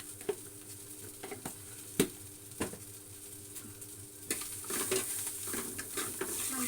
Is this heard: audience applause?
no